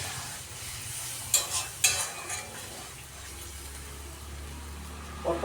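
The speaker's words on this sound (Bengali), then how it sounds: "আমি সামান্য জল দিয়ে দিলাম" Pointed gourd frying in oil as a little water is added, a steady sizzle broken by a few sharp clinks and scrapes of a utensil against the pan, with no voices.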